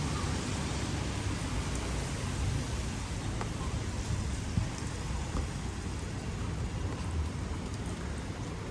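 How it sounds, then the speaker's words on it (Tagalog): Steady rain falls in a dense, continuous hiss that stays even throughout, with no voices. "Ayan, umuulan."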